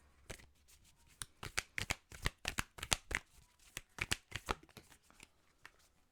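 Tarot cards being shuffled by hand, a series of crisp riffling and flapping bursts in quick succession, close and clear with no talk.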